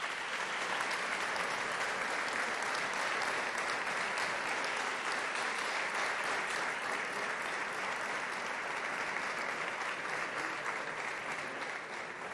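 Sustained, dense applause from an audience at the inaugural ceremony for a river basin authority's centenary, steady and loud throughout.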